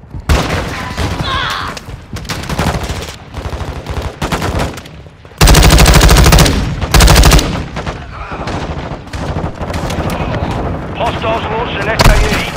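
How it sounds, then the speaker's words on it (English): Heavy gunfire from Call of Duty Modern Warfare 2.0 on PS5: dense machine-gun bursts and single shots, loud and close, with two very loud sustained volleys in the middle and voices calling out between them. "Hostiles launching an SAE. Taking effective fire!"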